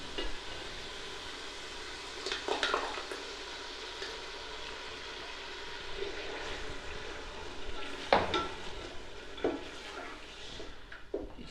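Tomato masala fries in a pan with a low steady sizzle, broken by several sharp scraping stirs of a spoon against the metal, fairly quiet and close, with no voices.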